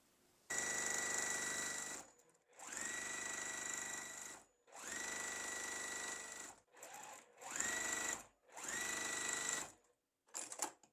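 Sewing machine chain piecing quilt block pieces, running in five or six steady bursts of stitching separated by short pauses, close and loud with no talk.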